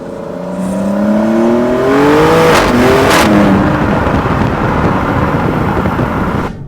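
A 2025 Maserati Grecale Trofeo SUV engine revs up, its pitch climbing steadily into a loud, sustained roar that holds close and strong before cutting off abruptly.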